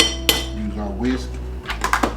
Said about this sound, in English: Use our whisk.